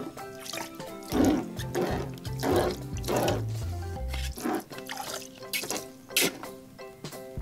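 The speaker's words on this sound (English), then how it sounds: "Let's have Donald Duck shoot some water out." Water squirts and splashes from a Donald Duck bath toy in a series of close, uneven gushes and drips, with sloshing water between them.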